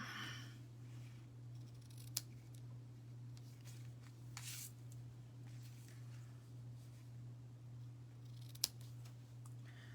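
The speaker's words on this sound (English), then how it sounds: "So let's cut the ends a little bit." Scissors snip the ends of a craft piece in a few sharp, close cuts, separate clicks spaced apart over a low, steady background hum.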